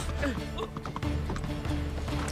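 Horse hooves clip-clop in a rapid galloping rhythm inside the video game Uncharted 3, loud and close over a low rumbling game soundtrack, with a faint voice underneath.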